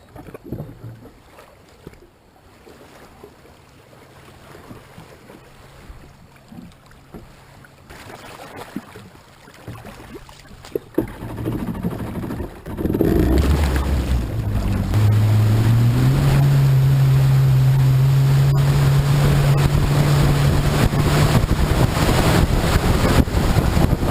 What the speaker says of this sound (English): Now we'll get this jet ski back out in the water.